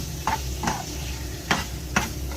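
Onion paste and curry leaves get stirred in a pan, a quiet sizzle running underneath four distinct scraping strokes of the spoon spaced unevenly.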